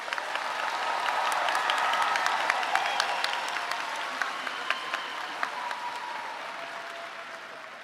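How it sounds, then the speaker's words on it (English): A graduation crowd at a high school ceremony applauds the graduating seniors, with steady, dense, fairly loud clapping that swells and then tapers slowly over several seconds. "let's give one more round of applause to the graduating seniors."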